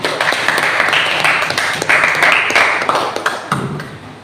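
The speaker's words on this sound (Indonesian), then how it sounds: "Beri tepuk tangan untuk bisa." A classroom group claps for a student in a burst of loud, fast, overlapping hand claps that carry on for several seconds before tapering off near the end.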